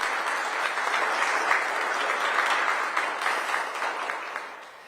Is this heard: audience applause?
yes